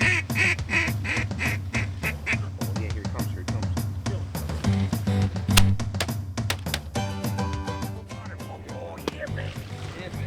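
Ducks quacking on a Delmarva duck hunt at a riverside lodge, repeated calls mixed with water and boat sounds and a steady music bed, fairly busy and continuous throughout.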